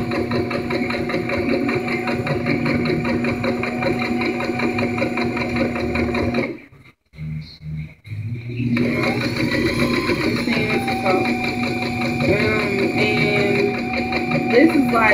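Sewing machine running steadily as it stitches along the side seam of a spaghetti-strap dress, a loud continuous mechanical hum with a brief pause midway before resuming; a voice talks over it.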